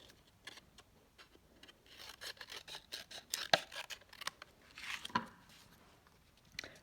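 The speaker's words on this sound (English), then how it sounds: "I'm going to cut my cardstock down a little bit" Scissors snip through cardstock in a series of short, crisp cuts close by, with some sharper clicks midway. The cuts are quiet and uneven in rhythm, and nobody talks.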